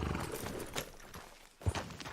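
Horse hooves walking in the video game Red Dead Redemption 2, with soft scattered clip-clops on the ground and one heavier thud near the end, under quiet ambient background.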